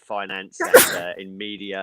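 One sharp sneeze bursts out in the middle of a panel discussion, close and loud, with speech just before and after it.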